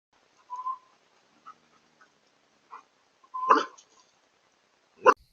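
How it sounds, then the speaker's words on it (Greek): Dogs raiding a backyard chicken coop at night, caught on a security camera: a few short, scattered sounds, then two sharp, louder bursts of barking or squawking, with quiet gaps between them and no speech. "Χτες το βράδυ οι κοτόλες μου δέχτηκαν επίθεση από δύο μεγάλα άγρια σκυλιά."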